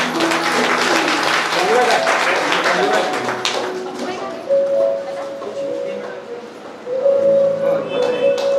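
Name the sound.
applause for the association secretary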